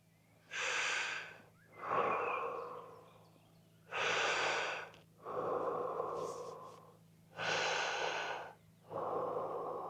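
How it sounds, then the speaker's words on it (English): A person breathes in slowly and audibly through the nose, then out, in three long, close cycles with short pauses between, calm and alone without talk. "In through the nose"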